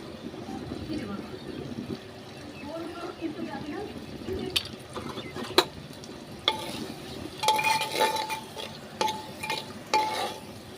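Spices with ginger, garlic, ground coriander and chili being stir-fried in a pan, with soft sizzling and intermittent scraping and clinking of a utensil against the pan, louder toward the end, while a person talks over it.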